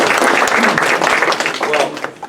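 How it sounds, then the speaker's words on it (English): A crowd gives another round of applause at the close of an evening lecture program, loud and dense, a continuous wash of clapping for a couple of seconds with possible voices mixed in. "Another round of applause."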